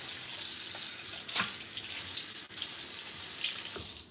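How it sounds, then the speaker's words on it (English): Water runs from a tap into a sink while makeup brushes are washed, a steady close gush with a few splashy surges and brief interruptions as the flow is disturbed. "So hold please while I run this water."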